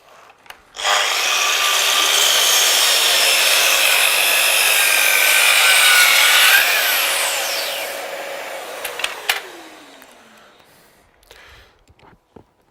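A Festool Kapex KS60 miter saw makes a compound-angle cut in wood. The motor spins up loudly, holds a steady high whine for several seconds, then winds down, with a few clicks and knocks after it stops.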